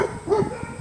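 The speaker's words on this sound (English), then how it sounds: "Somebody's dog's going nuts" A neighbourhood dog barks and whimpers in short bursts nearby, heard during a walk through a town street with light background noise.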